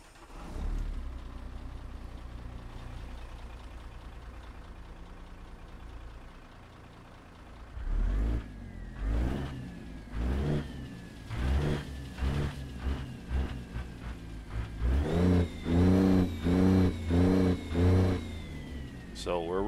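A Kenworth W900 flat-glass truck engine in a driving game cranks and fires, then idles and revs in repeated bursts, the revs growing louder and more rapid toward the end.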